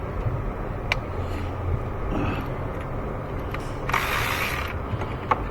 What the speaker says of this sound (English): I'm going to loosen this top bolt on the alternator